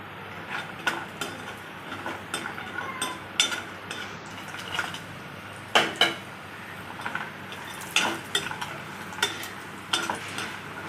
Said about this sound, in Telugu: ఇవి నెయ్యిలో వేయించుకుంటే లడ్డూకి చాలా బాగుంటుంది